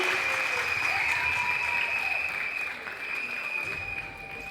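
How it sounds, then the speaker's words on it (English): Applause from a school annual day audience, a steady wash of clapping that eases slightly in loudness partway through, with some tonal background sound running beneath it. "applause, please, everybody"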